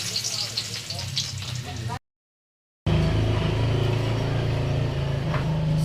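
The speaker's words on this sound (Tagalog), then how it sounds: "Isan muna tayo bawang." Garlic for chicken caldereta sautés in a pan, a steady close sizzle that breaks off into a brief silence, then returns louder and fuller, hissing continuously to the end.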